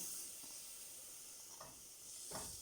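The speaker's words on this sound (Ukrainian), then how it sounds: "Поки цибуля обсмажувалась, натерла моркву і викладаю її в каструлю." Steady sizzling of onion and grated carrot frying in a pot, with a few soft stirring scrapes and bursts of hiss.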